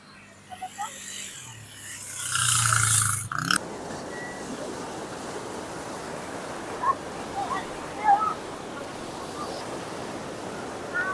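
Sea waves on the Zambales coast wash in a soft continuous hiss with wind buffeting the microphone, after a short loud gust at the start.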